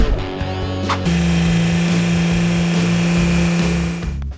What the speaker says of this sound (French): Le grondement puissant et net de son moteur MAN 6 cylindres témoigne d'un âge d'or de la mécanique